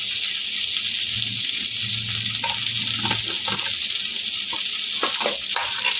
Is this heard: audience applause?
no